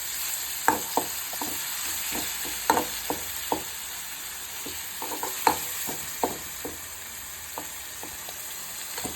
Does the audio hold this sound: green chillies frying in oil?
yes